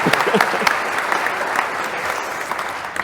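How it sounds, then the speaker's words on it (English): A church congregation bursts into steady applause, many hands clapping together at close range for about three seconds, with a few voices murmuring underneath. "yes, you can clap."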